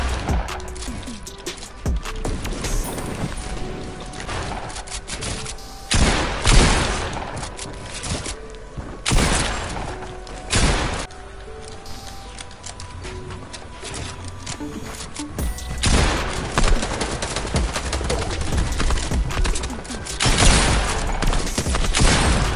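Fortnite gunfire erupts in repeated loud bursts and rapid volleys, with short pauses between strings of shots, over a busy in-game background.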